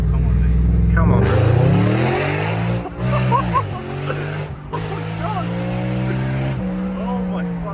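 Audi RS5 with a 4.2-litre naturally aspirated V8, the engine droning and revving through gear changes with rising and falling pitch, loud and steady throughout, with a voice shouting in excitement over it.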